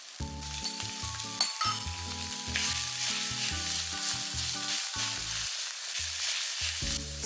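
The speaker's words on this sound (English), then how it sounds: "Stir fry until it's slightly charred and fragrant. Then add in minced pork." Onions and minced pork sizzling in a hot wok during stir-frying, a steady loud hiss running throughout, joined by a repeated rhythmic scraping and knocking of the stirring utensil.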